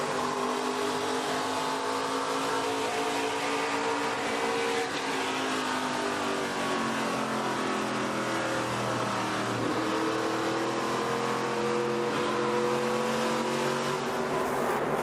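An onboard engine roars steadily from Trevor Huddleston's stock car in the ARCA Menards Series race at Phoenix. A loud, continuous drone rises and falls in pitch with gear and throttle changes for the full fifteen seconds, with no break.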